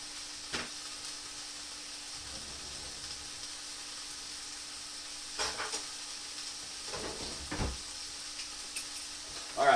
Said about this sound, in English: Frying out perfectly.